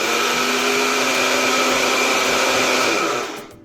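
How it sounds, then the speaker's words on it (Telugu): A mixer grinder whirs loudly and steadily as it grinds oats into a fine powder, running for a few seconds before spinning down at the end. "ఇవి మెత్తగా పౌడర్ లాగా మిక్సీ పట్టుకుందాం."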